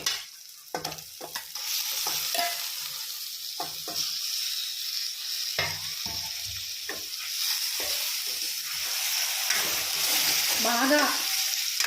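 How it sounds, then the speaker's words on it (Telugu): Skin-on chicken pieces frying and being stirred in hot oil with ginger garlic paste and turmeric tempering, a steady close sizzle with scraping stir strokes throughout, no talking. "ఇప్పుడు చికెన్ వేసుకుంటున్నాను అనమాట"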